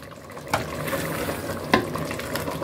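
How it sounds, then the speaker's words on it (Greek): A pot of chickpea fricassee with spinach being shaken, giving a soft continuous sloshing and stirring texture with two sharper knocks of the pot, close and fairly quiet, with no talking. "Κουνάμε την κατσαρόλα μας καλά."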